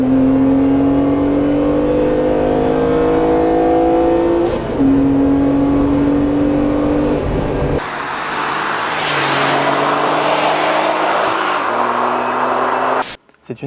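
The 3-litre, 255-horsepower V6 engine of a Renault Clio V6 revs up loudly and repeatedly, pitch climbing and dropping through several rises, then cuts off abruptly near the end.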